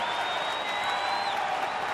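A baseball stadium crowd at a Rockies versus Brewers night game in Milwaukee keeps up a steady, broad roar of cheering and applause, a constant wash of noise with a faint tone running through it.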